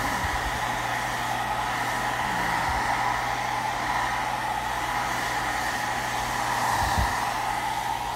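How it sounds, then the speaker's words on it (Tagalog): A hair dryer blows with a steady, even whir, constant and close, with a faint low hum underneath. "So, kailangan din natin ng blower."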